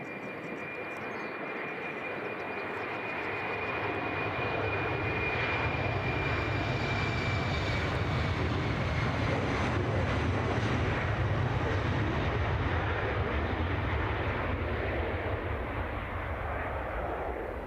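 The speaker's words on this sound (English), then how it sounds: "And that sound tells you that this plane is moving." Airliner engines spool up as a plane moves at Edinburgh Airport, a loud roar that swells over the first seconds and then holds steady, with a thin whine on top.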